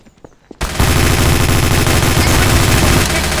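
Scorpion gun in Garry's Mod firing a sustained, loud automatic burst after a brief quiet moment, with rapid continuous shots that dominate the sound.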